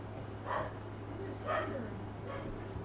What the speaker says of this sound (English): The dog is barking at.